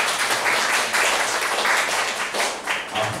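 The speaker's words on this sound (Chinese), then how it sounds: "我们再次给他热烈掌声" Applause from an audience at a gathering, a continuous dense wash of clapping that swells and dips over a few seconds, with no speech over it.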